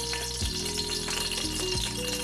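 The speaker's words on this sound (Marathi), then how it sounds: "त्याच्यामध्ये मी 1 पळी ऍड करत आहे तेलाची" Cooking oil is ladled into a hot kadhai, giving a soft continuous sizzle and hiss against faint kitchen hum, with no voices.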